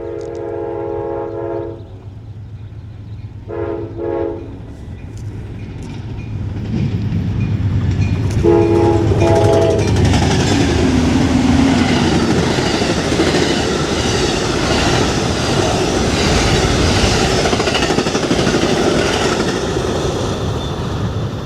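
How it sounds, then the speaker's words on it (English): An Amtrak Empire Builder passenger train passes northbound, opening with several loud blasts of its horn, then a rising roar of wheels and rail clatter that grows close and stays loud as the cars rush by. "All right, Burr, that was our Empire Builder Amtrak train, northbound"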